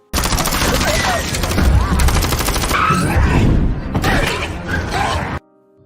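Rapid gunfire rattles through a zombie film scene in dense repeated bursts with mechanical clatter, loud and close, before cutting abruptly to near silence.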